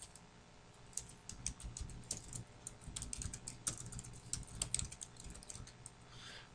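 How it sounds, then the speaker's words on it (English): Fingers tap out a domain name on a computer keyboard, a close run of quick irregular key clicks with brief pauses, alone and without talking. "we're going to type in a domain name"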